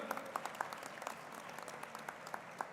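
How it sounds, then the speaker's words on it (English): A large audience applauds to welcome a former Vice President at a student parliament event, a distant, even wash of clapping with a few sharper nearby claps standing out. "Let's give a big round of applause"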